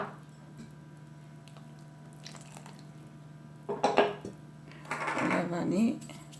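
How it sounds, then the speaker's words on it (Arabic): Ghee is mixed in a bowl, with soft squishing and scraping strokes that build in the second half, close and moderately loud. "الآن نخلط السمن تاعنا"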